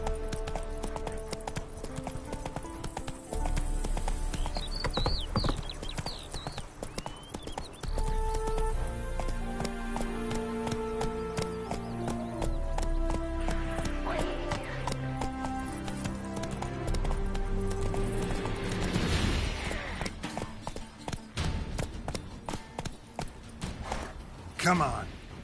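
A horse gallops in Skyrim with steady, close clip-clop hoofbeats over game music and ambience, and a brief neigh and some changes of pace come partway through.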